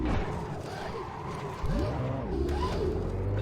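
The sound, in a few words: race car engine driving, from a video game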